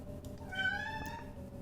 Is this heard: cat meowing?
yes